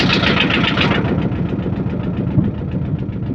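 A boat engine runs steadily on the Teesta River with a low, chugging rumble, continuous and close, with no voices over it.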